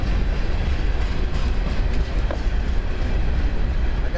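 Freight train rolling past near a riverbank where someone fishes on cold water, a loud continuous rumble with a rhythmic clickety-clack of wheels over rail joints, close by and steady, with no voices.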